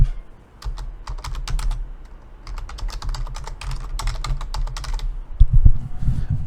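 Rapid, close clicking of a computer keyboard as an SQL injection query is typed, bursts of keystrokes with short pauses, ending with a few low thumps, no speech.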